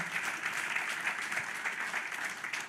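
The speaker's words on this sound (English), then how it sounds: "Would you all please clap your hands for Jonathan Ike?" Steady audience applause at an evening event honoring King, a dense wash of clapping hands that holds at an even level throughout with no speech over it.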